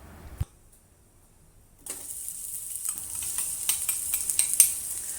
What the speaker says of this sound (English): Saute the chopped onions over medium heat until translucent and start to caramelize.